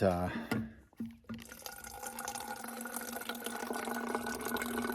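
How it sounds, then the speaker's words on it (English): A brief voice, then a steady trickle of creek water running through a backpacking filter, continuing evenly to the end, close and moderately loud. "this is my first time ever filtering water"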